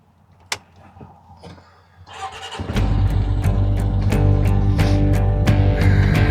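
A car starts with a clunk and an engine turning over, then settles into a loud, steady running rumble with repeated sharp clicks and knocks on top, close by, with no speech.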